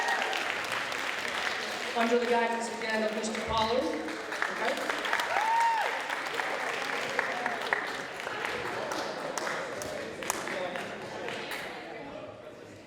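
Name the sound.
audience applause for students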